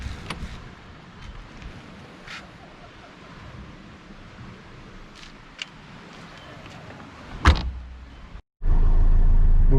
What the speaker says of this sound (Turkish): Şoför kapısını açıp kapatalım. O da çok güzel kapanıyor.